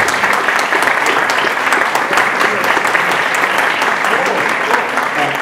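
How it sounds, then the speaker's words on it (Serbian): A lecture-hall audience at an educational congress centre gives a speaker a big, sustained round of applause, a dense steady wash of many hands clapping close together. "isto tako jednim velikim aplauzom"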